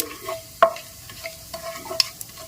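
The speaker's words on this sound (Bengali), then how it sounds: "ফোড়নের একটা ভাজা ভাজা গন্ধ আসা পর্যন্ত ফোড়নটাকে এরকম নেড়েচেড়ে ভেজে নিতে হবে" Whole spices fry in hot oil for a tempering in a tomato rice pulao, with a soft continuous sizzle broken by several sharp clinks and scrapes of a spatula stirring the pan up close.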